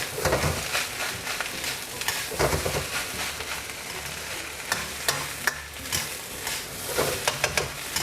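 Mala fried rice with Chinese sausage being stir-fried over high heat, a steady loud sizzle broken by repeated scraping and clanking of the spatula against the wok, continuous throughout with no talking.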